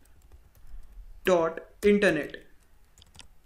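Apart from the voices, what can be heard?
typing on a computer keyboard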